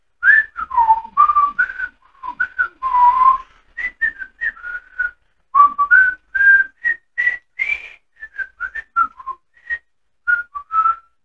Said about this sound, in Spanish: vamos a silbar